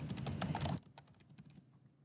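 Keys clatter on a computer keyboard in a quick, close burst of typing for under a second, then a few scattered, fainter taps trail off into near silence.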